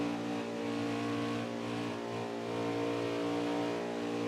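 A stock car engine is held back to save fuel in NASCAR Heat 4, heard from the hood camera during an Xfinity Series race at Michigan. It gives a steady, even drone with a layered tonal hum and no sharp revs.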